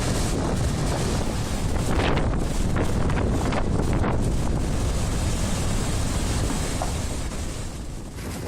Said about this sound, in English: strong waves repeatedly hit the seawall